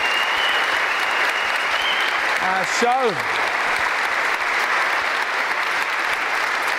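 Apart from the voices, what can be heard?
studio audience applause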